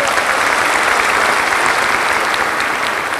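Wedding guests applaud steadily at a civil marriage ceremony, a dense, even clapping from a crowd that holds at a loud level from start to finish.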